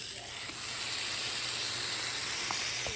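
A burger patty sizzles in a hot pan, a steady, close broadband hiss with faint crackles running evenly throughout, no voices over it.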